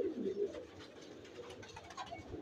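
Pigeons in a loft with breeding pairs, including a Saharanpuri bird and its chick, coo softly in low, throaty rolling phrases that repeat steadily, fairly close and alone without speech.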